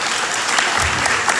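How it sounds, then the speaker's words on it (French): Audience applause at a school event between two Haitian colleges, a short, loud, dense burst of crowd clapping. "nous pouvons applaudir pour nous"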